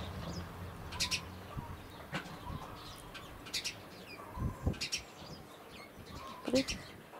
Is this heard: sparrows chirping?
yes